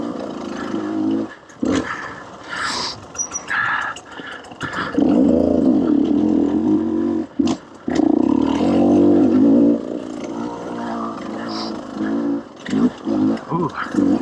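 A KTM 150 XC-W two-stroke dirt bike revs while riding a trail, its engine rising and falling in bursts with brief cutoffs, loud and close alongside talking from the rider.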